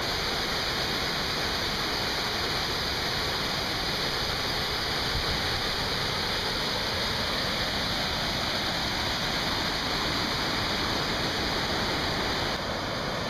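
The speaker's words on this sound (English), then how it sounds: "I've seen this waterfall many times, but it's freaking amazing" Little Zig Zag Falls on Mt. Hood roars as a steady, dense rush of falling water, loud and close, with no break and no voices.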